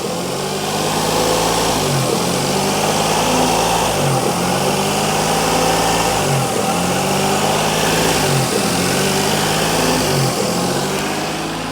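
A Renault Vel Satis engine with a massive air leak runs rough and loud, its pitch rising and falling in repeated surges roughly every two seconds, with no one talking.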